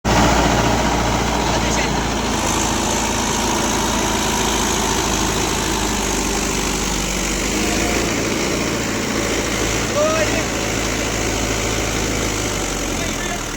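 A tractor engine idles close by, a steady, loud, continuous rumble with a broad noisy drone that holds unchanged for the whole stretch.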